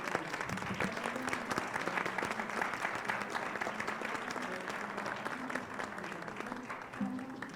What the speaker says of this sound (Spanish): Un merecido aplauso a todos nuestros panelistas.